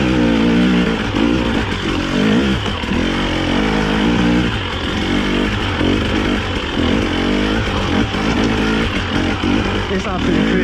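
A Husqvarna TE300i enduro motorcycle climbs a hill under steady throttle, its close, loud two-stroke engine droning and pulsing continuously with small surges in revs.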